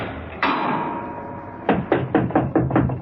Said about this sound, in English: slammed the heavy door and locked it.